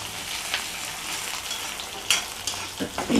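Onions sizzle in a hot pan while horse gram rasam is prepared, a steady bright crackle with occasional louder spatters and stirring scrapes, close and continuous without speech.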